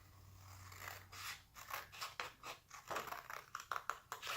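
Scissors cutting paper, a series of close, crisp snips and slicing strokes in an uneven rhythm, fairly quiet, with no talking.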